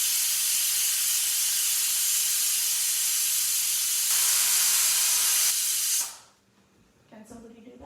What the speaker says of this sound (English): I'm just going to remove some steam so that I can show you